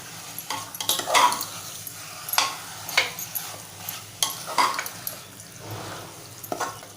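Mutton curry is stirred in a sizzling pan with a spoon, scraping and clinking in irregular bursts over a soft, steady fry, close by with no talking.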